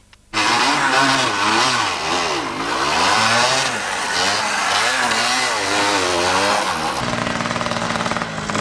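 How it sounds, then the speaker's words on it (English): A Fantic 125 trials motorcycle at a 1993 Welsh trial snarls close by, the engine revving hard and continuously with a warbling pitch that rises and falls as the rider works the throttle, then settles to a steadier idle. "Jeff Hastings from Surrey was riding a Fantic 125."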